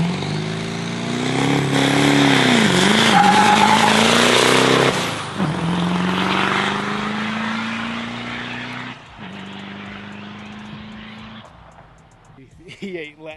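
An 800 HP LB7 Duramax truck with a ZF6 manual transmission launches hard, its engine roaring loud from inside the cab as revs climb, drop at a shift and climb again before easing off, with a voice briefly heard.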